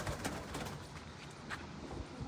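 Faint pigeon coos sit under steady, rough outdoor noise, soft and distant through a couple of seconds.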